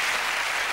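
Studio audience applause on a snooker game show: a short, dense burst of many hands clapping evenly, lasting under a second, with no voices over it.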